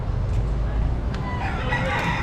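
A rooster crows outdoors on a Key West street among free-roaming chickens, heard at a moderate distance over steady street and crowd background noise.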